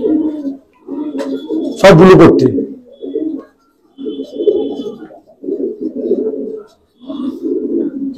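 Pigeons coo in repeated low, throaty bursts close at hand, among them a fulsia male being paired with a female; someone speaks briefly and a loud broadband rustle or flap cuts in near the middle.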